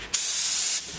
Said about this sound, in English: I'm gonna show you the spray pattern of the Fuji MPX-30 spray gun